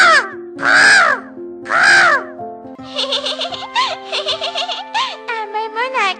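A person imitates a crow's caw aloud. Two long drawn-out caws are followed by a quick run of shorter, bouncy caw-like calls, loud and close, from a voice rather than a real bird.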